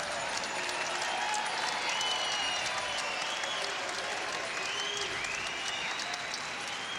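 Arena crowd at a 1997 Scotties curling match applauding a shot, a steady wash of clapping and cheering that swells slightly and then fades, with a few whistles rising above it.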